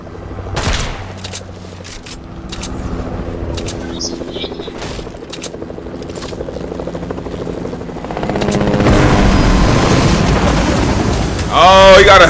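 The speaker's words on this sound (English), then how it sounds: "We got a helicopter teammate?" A helicopter in the video game Fortnite whirs through the action, a steady rotor drone rising louder near the end amid gunfire-like bursts and game noise, with a player talking over it.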